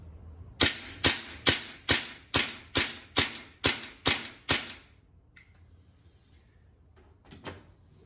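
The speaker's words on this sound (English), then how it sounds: "I'll do 10 shots in a steady cadence again" Ten dry-fire shots from a pistol fitted with a CoolFire training system, sharp identical snaps in an even, steady cadence about every half second, close and loud, followed by near silence and a faint click.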